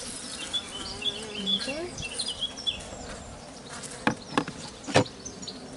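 Honeybees buzz around a hive as it is fed syrup, a steady insect drone with a few louder passes close by near the end; a person speaks briefly.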